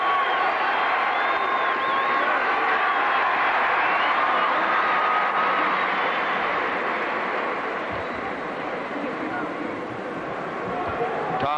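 Stadium crowd noise at a 1983 college football game between West Virginia and Syracuse, a continuous loud roar of cheering spectators under steady play-by-play commentary.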